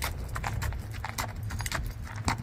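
Hooves of a show horse clip-clop around a barn, a fairly steady run of close, sharp knocks with faint jangling over a low background rumble.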